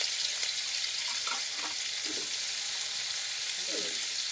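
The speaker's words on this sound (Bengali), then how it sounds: "এইগুলো গাজর আলুগুলো এবার একটু ভাজা ভাজা করে নেব হালকা করে।" Carrots and potatoes fry lightly in white oil for a paneer and cauliflower roast, giving a soft, steady sizzle with a few faint stirring clinks, fairly quiet and close.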